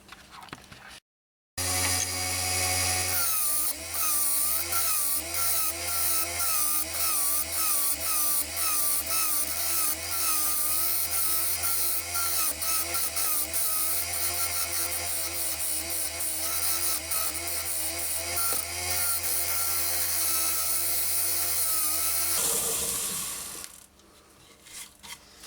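A woodturning tool cuts a wooden fruit bowl spinning on a lathe, making a continuous loud rasping, scraping whine with wavering, rhythmic undulations, after a brief start and before a sudden stop, with no talk.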